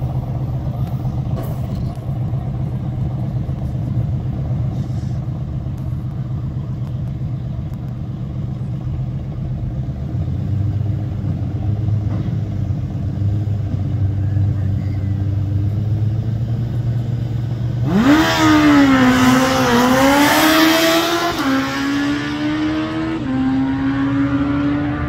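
A Kawasaki ZX14 motorcycle on a speed run, its engine droning steadily at first and then surging in a loud rising rev with gear changes as it accelerates hard, close and dominant.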